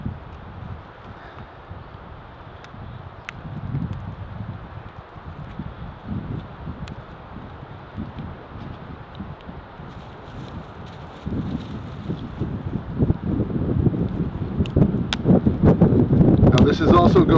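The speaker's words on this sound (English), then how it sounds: "Now this is also going really good because I have a really strong wind" Strong wind blows across an outdoor spot where a camp stove has just been lit, a low buffeting rumble on the microphone that builds and gets louder in the last few seconds.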